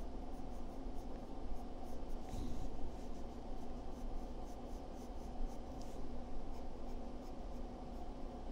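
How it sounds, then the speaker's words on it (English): Colour pencil scratches softly across paper during a face sketch, a faint continuous rubbing over a steady room hiss, with no talking. "Sketching this out in color pencil"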